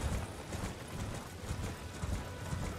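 Horse hooves gallop in a steady, continuous clip-clop rhythm in the game Elden Ring, moderately loud against a dense background of game noise, with no talking.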